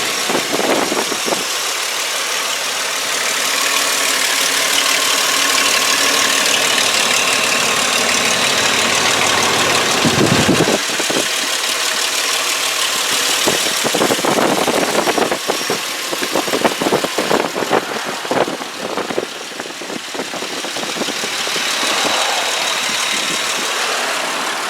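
A 2004 Ford Explorer XLS 4WD with a 4.0-liter six-cylinder engine idles steadily and loudly up close under the open hood, its hum even throughout and broken by brief clattering and mechanical noises near the middle.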